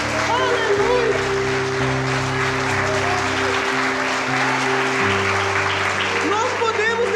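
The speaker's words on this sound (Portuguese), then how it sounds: "Você pode aplaudir ao Senhor, Ele já venceu." A church congregation claps in praise during worship, with scattered applause and voices mixed over sustained keyboard chords and music that play continuously underneath.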